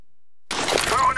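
An incendiary grenade shatters in the video game CS:GO, a sudden loud breaking burst with a crackling tail right after half a second of silence.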